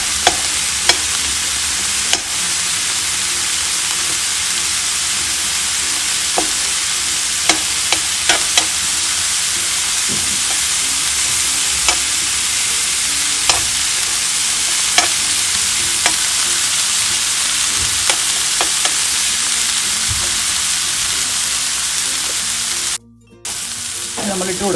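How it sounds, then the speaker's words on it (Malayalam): Walnuts roast in butter in a pan for a broccoli stir-fry, giving a loud continuous sizzle with occasional sharp taps and scrapes of a spatula stirring, close up and steady throughout, with no voices. "വാൾനട്ട് ഇട്ട് ബട്ടറിലൊന്ന് റോസ്റ്റ് ചെയ്യണം"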